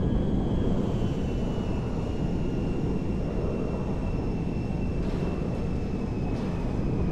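C-17A Globemaster III cargo jet in GTA 5 flight: a continuous heavy engine roar with broad rushing noise and a faint high whine above it, steady and loud throughout with no talking.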